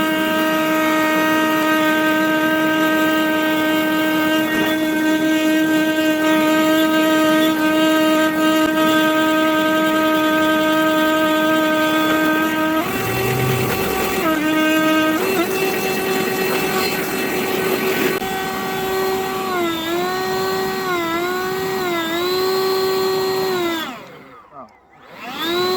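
A battery leaf blower clears snow off a track with a loud, steady, tonal whine that jumps in pitch midway, warbles as the power shifts, then cuts off near the end.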